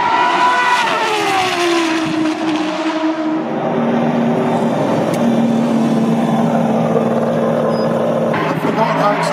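2006 Aston Martin DBR9 GT1 race car driven hard from onboard: a loud, powerful engine note climbing and falling through the gears, continuous throughout, with faint talk beneath it.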